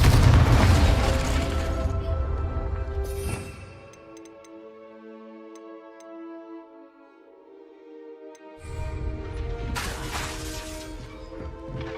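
Spell explosions from Hogwarts Legacy: loud, dense bursts fill the opening three seconds and return near the end, with a quieter ringing, tonal stretch in between.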